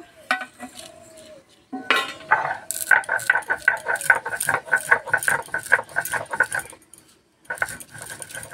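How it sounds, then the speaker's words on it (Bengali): Roasted spices are ground coarsely by hand, probably with a mortar and pestle. A rapid run of repeated grinding strikes sounds close and loud for several seconds, then stops briefly before resuming. "এদিকে ভাজা মশলাটা গুঁড়ো করে নেব।"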